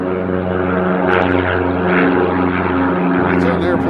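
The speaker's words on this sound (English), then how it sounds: "That's how an airplane's supposed to sound." Propeller airplane at Nashville International Airport, a loud steady droning engine with a rich harmonic hum, close and continuous, with a person talking over it.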